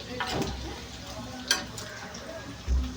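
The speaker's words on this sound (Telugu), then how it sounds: "కొంచెం పల్లీలు నువ్వులు ఎల్లుపాయ జీలకర్ర తీసుకున్నానండి ఇవైతే ఫ్రై అవుతున్నాయి కదండి" Peanuts, sesame seeds, garlic and cumin fry in a pan with a faint, soft sizzle, punctuated by a few light stirring clicks and taps.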